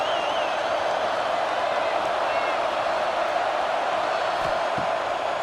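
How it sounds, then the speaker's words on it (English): A packed football stadium crowd at a Michigan vs Ole Miss college game gives off a dense, continuous roar that holds steady throughout, with a commentator talking over it. "this crowd is ready"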